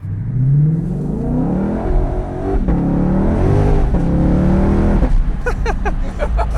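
A Ford car launches hard and accelerates, the engine climbing in pitch through several gear shifts, loud and close, with the roar continuing through the run and brief rattling at the end.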